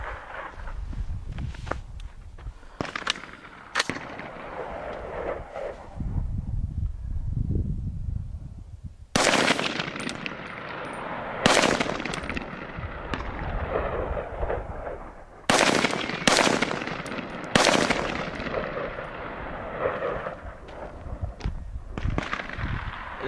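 Q Honey Badger rifle fired through a full magazine, each sharp report loud and close, spaced unevenly with pauses and quick pairs, and no talking in between.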